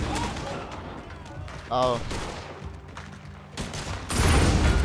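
Explosive-round gunfire in Red Dead Redemption 2 on PC, with several sharp bursts and loud blasts spread across a few seconds, a heavier explosion closing it out, while a man calls out over the action.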